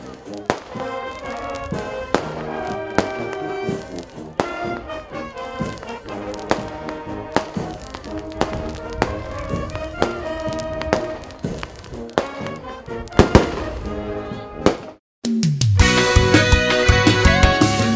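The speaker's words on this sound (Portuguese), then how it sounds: "A novena é encerrada com a queima de fogos." Fireworks closing a truckers' religious novena festival for Saint Sebastian, bursting repeatedly as sharp bangs and crackles over loud festive music, with a denser burst of explosions near the end.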